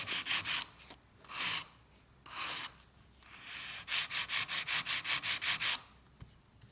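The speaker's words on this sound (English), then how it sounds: "Now this is just a rough file now because I still have to work over the nail" A rough file is worked over a long, squared, sculpted acrylic nail with a clear base: a few separate rasping strokes, then a quick, even run of about a dozen close, crisp scrapes.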